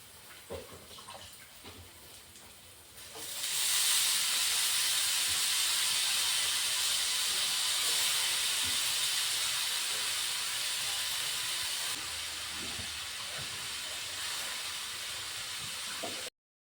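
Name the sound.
frying bhaji (gram flour fritters)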